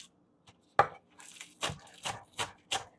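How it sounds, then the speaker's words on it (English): A knife cuts through a hot pepper on a board for Jamaican roast fish, about six or seven sharp, separate chops at an uneven pace, close and clear with no talking. "The pepper, just gonna cut it in a two"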